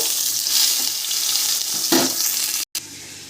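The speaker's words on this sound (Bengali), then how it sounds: "এই তেলের মধ্যেই টমেটো কাঁচা লঙ্কা সব ভেজে নেব" Tomatoes and green chilies fry in leftover oil in a pan, a steady close broadband sizzle with a brief stir-like scrape near the middle and a momentary cutoff toward the end, no talking.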